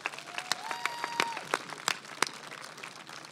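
An audience applauds at the 2021 BMC Durfee High School commencement ceremony: scattered, crisp claps ring out in an indoor crowd with a few brief whistles or cheers mixed in, then thin out toward the end.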